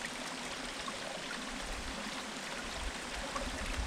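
Stream water flows over a hiking trail on the Pinhoti Trail in Alabama, producing a faint, even broadband rush. It is steady and unbroken throughout, with no voices.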